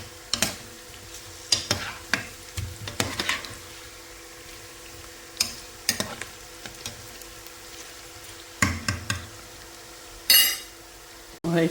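Mashed garlic and chopped meat being stirred in a cooking pot, with repeated scraping and clinking strokes and a soft sizzle between them, close by and without talk.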